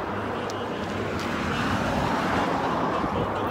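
Steady road traffic rumbles behind a cyclist climbing a slope toward the river, a continuous broadband wash of passing cars at moderate distance with no voices.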